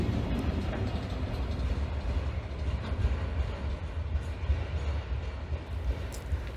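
A diesel-electric freight train hauling reinforced concrete beams and elements for Tesla Giga Berlin rolls past, its steady low rumble and wagon noise continuous and fairly close throughout.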